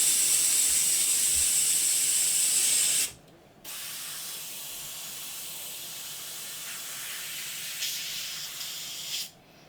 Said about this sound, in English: So just a little bit down in there like that, and we just blow it out.